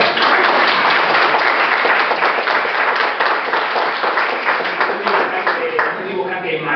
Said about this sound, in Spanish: Un aplauso para Víctor, por favor.